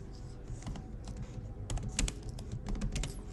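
Code being typed on a computer keyboard, a close, rapid run of clicking keystrokes in uneven bursts over a low background hum, growing a little denser toward the end.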